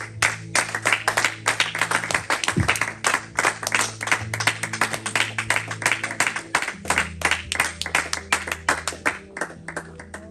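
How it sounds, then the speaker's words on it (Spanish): A church congregation at a Spanish-language Saturday service in Panorama City applauds, with dense, rhythmic clapping across the whole stretch and a steady sustained tone underneath. "Le damos un aplauso más al Señor."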